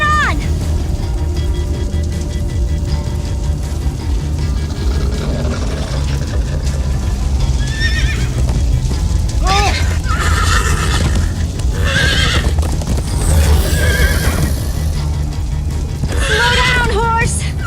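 Minecraft: Story Mode horses whinny and neigh several times over steady hoofbeats and a constant rumbling background, with brief bits of voice mixed in.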